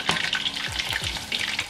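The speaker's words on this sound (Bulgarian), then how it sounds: "След като са се пържили около минутка, мога леко да ги позавъртя в олиото." Breaded chicken bites frying in hot oil, a loud, close, continuous sizzle with bubbling crackle and a few soft stirring movements, no talking.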